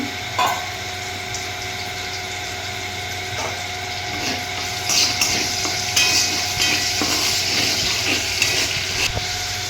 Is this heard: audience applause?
no